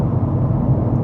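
Steady low rumble of a Proton S70 three-cylinder engine heard inside the quiet cabin while cruising at 98 km/h, a continuous muffled drone mixed with road noise and no voices.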